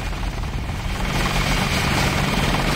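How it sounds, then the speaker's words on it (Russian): Helicopter engine in the 2000 video game Deus Ex: a steady, loud rotor drone with low thumping, continuous throughout without pause. "Так, тут вертолет."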